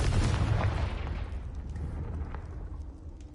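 A Confringo spell explosion in Hogwarts Legacy booms loudly at the start, then rumbles and fades over a few seconds.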